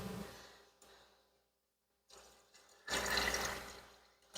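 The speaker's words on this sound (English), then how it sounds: "Let's give it a good rinse." Sprouts being rinsed under running water, a soft watery wash that fades briefly to near silence before a louder, fuller stream of splashing returns toward the end.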